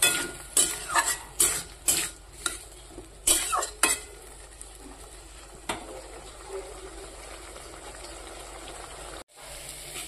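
Vegetables with chili paste, turmeric and salt are stirred and fried in a pan. A quick series of scraping, clattering stirs comes first, and then a softer, steady sizzle continues alone.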